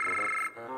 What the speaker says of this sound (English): Jim, that's your pants phone. Aren't you gonna answer?